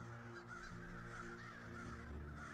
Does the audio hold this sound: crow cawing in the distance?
yes